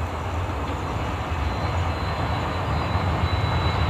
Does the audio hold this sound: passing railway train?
yes